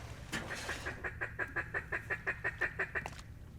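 A duck calls during a duck hunt, giving about a dozen nasal quacks in a steady, evenly spaced rhythm. The calls are fairly close and clear against a low background.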